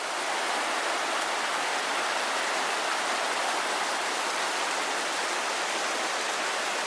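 The Petite Creuse river runs full in autumn, a steady, even rush of flowing water that continues without change and without any voices.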